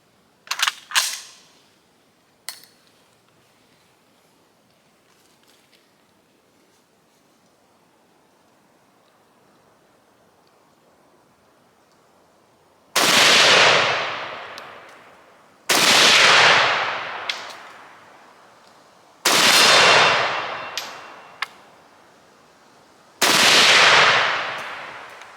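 Four loud, sharp gunshots from a Type 56 SKS rifle ring out several seconds apart, each followed by a broad decaying echo, after a quiet stretch with a few clicks of handling near the start.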